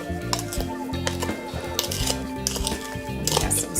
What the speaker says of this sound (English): It takes a while to make sure that everything is mixed in well.